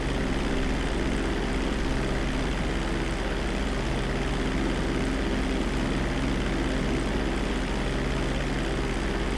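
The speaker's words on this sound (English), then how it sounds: "Driving the plane or whatever, flying." Propeller airplane engine droning steadily in Grand Theft Auto V while flying low toward a drop zone, a continuous, even hum with a low rumble throughout and no talk.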